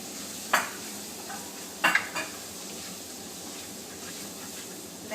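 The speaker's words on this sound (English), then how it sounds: "Let's roast these masalas just for a few minutes" Masala spices of turmeric, red chilli, coriander and cumin powder roast in a pan for dal makhani, giving a steady low sizzle with a few sharp clinks of a spoon scraping and stirring against the metal.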